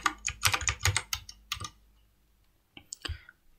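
Quick bursts of typing on a computer keyboard, close and crisp, with a flurry of keystrokes followed by a pause and a few final taps.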